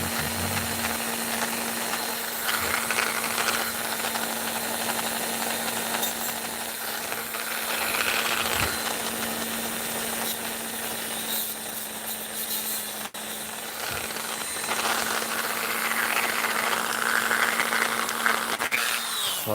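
A power tool running at low speed while cutting glass gives a steady, rough whine with a constant hum underneath, continuing for about twenty seconds at moderate loudness with small shifts in grinding texture.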